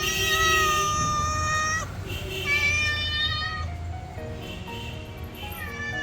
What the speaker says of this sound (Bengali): গেট খুলতেই বিড়াল কি খুশি দেখো